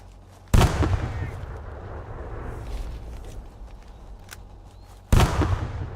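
Two booming grenade explosions in the retro-style tactical shooter Dagger Directive, each a loud, broad blast with a rumbling tail, about four and a half seconds apart over a low background rumble.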